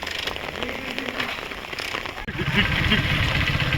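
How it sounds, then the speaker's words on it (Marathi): Heavy monsoon rain in Hingoli, Maharashtra, during flooding of the Kayadhu River, hisses and patters loudly and steadily nearby, with a faint low voice or engine hum underneath and a brief dropout midway. "पाऊस तर खूप जोराचा चालू आहे"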